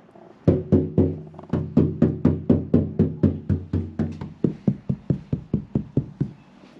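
A rapid series of about twenty hollow knocks on an untreated, non-soundproofed door panel of a 79 Series Land Cruiser, evenly paced, close and resonant, easing slightly toward the end.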